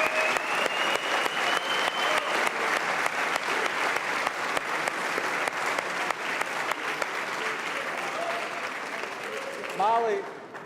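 A large audience at a city's State of the City address claps steadily for about ten seconds, dense and even, with crowd murmur underneath and a brief voice rising near the end as the clapping fades.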